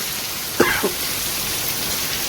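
Steady heavy rain hisses as a dense even wash of noise throughout, with a brief throat-clear-like sound near the start.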